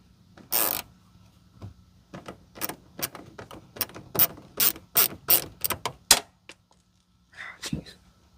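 A ratchet clicks in short bursts while backing screws out of a panel on a 2004 Chevy Astro Van, with about a dozen sharp, close ratcheting strokes separated by brief pauses.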